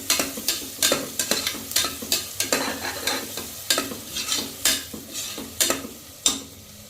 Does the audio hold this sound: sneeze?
no